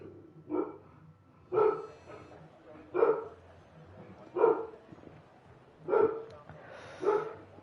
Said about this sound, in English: We've got some cracking support from a dog in the background, if you guys can hear him.